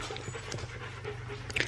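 A dog pants close by outdoors, quick soft breaths repeating steadily over a low background hum.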